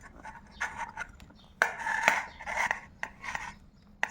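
A spoon works through soaked semolina batter with chopped onion, green chilli, carrot and capsicum, giving close, wet rasping and scraping strokes in uneven bursts, with no talking.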